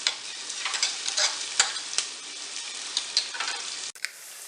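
Spice paste of coriander, chili and turmeric sizzles and crackles steadily in a hot pan, with scattered stirring scrapes and small pops throughout, close and fairly loud, ending with a brief sharp change in the frying hiss.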